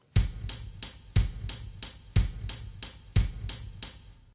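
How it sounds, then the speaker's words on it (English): A rhythmic drum pattern in a lilting 6/8 waltz feel, a strong low accent starting each group followed by lighter bright hits, looping steadily. "Another case might be the 6/8 metric that sounds like a waltz."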